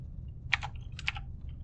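Two short bursts of keystrokes on a computer keyboard while entering code in Unity, a few quick clicks each, close and clear over a low steady hum, with no talking.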